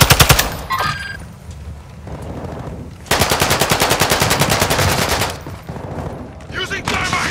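Rapid automatic gunfire from Call of Duty: Modern Warfare II rattles in long loud bursts, with a brief pause between volleys and some shorter shots mixed in. A voice speaks faintly beneath the shooting.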